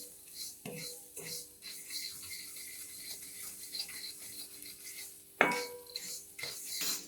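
Flattened rice (poha) is stirred as it roasts slowly over low heat in a pan, with quiet, irregular scraping and clinking of the utensil against the metal and a sharper knock near the end.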